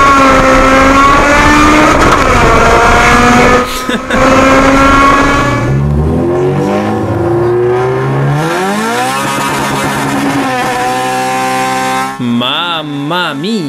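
A Honda S2000 with a VTEC engine revs hard and climbs through the gears. It is loud and close, with rising harmonic engine notes that drop at each gear change and then sweep up again toward a high-revving wail.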